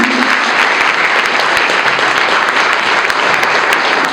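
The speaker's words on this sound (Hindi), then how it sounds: "मैं चाहूंगा इनके लिए जोरदार ताली बजाएं।" Loud, dense applause from an audience at a Constitution Day motivational speech event, many hands clapping steadily and evenly for about four seconds with no voices on top.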